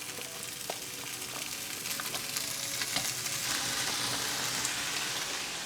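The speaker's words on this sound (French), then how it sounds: "Dans une poêle bien chaude, on va mettre la viande à griller" Meat searing in a very hot pan while cooking Japanese ramen: a steady, soft sizzle and crackle with scattered pops, continuous and fairly quiet.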